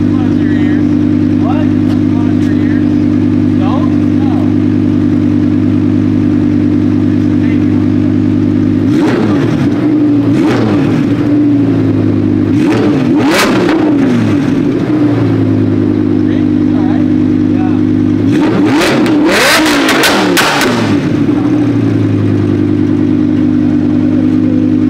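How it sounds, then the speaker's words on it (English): A Ford Mustang S650 with a new Valvetronic exhaust idles with a loud, steady low rumble, then is revved hard three times in sharp bursts. The blips are spaced several seconds apart, and the engine settles back to idle after each. "He also has not heard it with the new Valvetronic exhaust, so I'm gonna let him hear this thing too."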